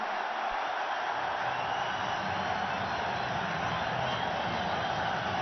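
Cricket stadium crowd at an ICL match, a dense, steady roar of many voices holding at the same level throughout, broad and distant-sounding with no individual voices standing out.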